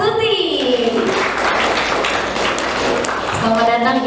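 A seminar audience at a university lifestyle journalism event claps to welcome a speaker. Dense, steady applause fills the room while a voice talks over it at the start and end.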